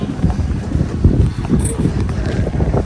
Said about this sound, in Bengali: রোদ আছে বাট বাতাসও আছে